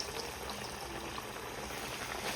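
Mutton rolls slid into well-heated oil, setting off a steady, dense sizzle of frying that holds evenly throughout, close and continuous with no talk.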